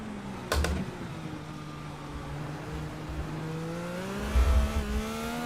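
Race car engine in the iRacing simulator, a steady droning tone that slowly climbs in pitch as it accelerates, with a couple of brief knocks and thumps, heard alone without talk.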